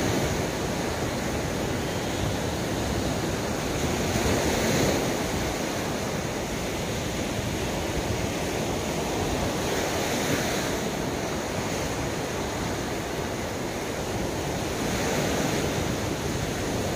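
Surf at Thiên Cầm beach in Hà Tĩnh, Vietnam, a constant loud roar of breaking waves mixed with wind buffeting the microphone, swelling every few seconds, with no voices.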